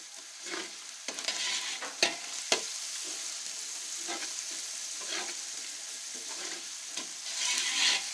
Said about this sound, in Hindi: इसको अच्छे से मिक्स करेंगे चम्मच की उल्टी साइड से